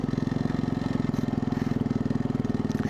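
A quad bike engine runs steadily nearby on a rough dirt track, a fast even low-pitched thrum with a regular pulsing throb throughout.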